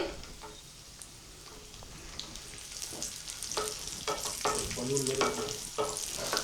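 Dried raisins fry in oil in a pan for a flattened-rice snack mix, giving a close, steady sizzle with scraping stirring strokes that grow busier and louder toward the end.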